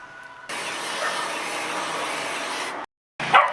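A paint spray can hisses steadily for about two seconds while spraying furniture, then cuts off abruptly, followed by a brief clatter.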